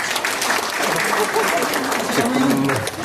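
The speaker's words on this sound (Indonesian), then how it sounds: "Tepuk tangan dong" Applause from participants at a landscape gardener training session, a loud burst of clapping with talking over it, fairly close in a room.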